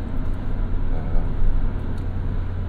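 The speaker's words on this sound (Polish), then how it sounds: "głośność samochodu przy 100 na godzinę 3000 obrotów silnika troszeczkę już zaczyna być głośnawo" Inside a 2019 Suzuki Jimny with a five-speed manual at 100 km/h and 3000 rpm, a steady low engine drone and road roar fill the cabin, loud and continuous.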